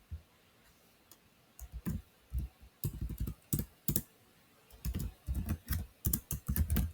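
Column header names being typed on a computer keyboard, irregular bursts of crisp key clicks close up, with short pauses between words, no talking.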